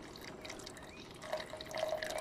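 Water runs down into a rain-harvesting pipe in a garden, making a soft, continuous trickle and splash that grows a little louder toward the end, heard faintly without talking.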